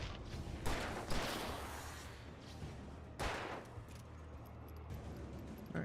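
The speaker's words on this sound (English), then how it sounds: "Fire! Explosion!" Gunfire and explosions in the horror action game Alan Wake Remastered: several sharp bursts stand out, one near the start, another a second later and a bigger blast just past three seconds, over a steady rumbling game background with no speech.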